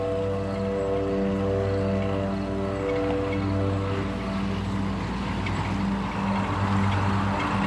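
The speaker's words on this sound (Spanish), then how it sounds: "Lentamente, sigilosamente, un coche se acerca." A car creeps slowly toward a silent farmhouse at night, its engine a steady low droning hum that holds for several seconds at an even level, with no voices.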